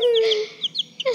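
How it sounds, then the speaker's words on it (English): Chickens clucking close by, a short burst of several quick clucks with a higher squawk at the start, loud and alone. "So, and we actually did buy chickens."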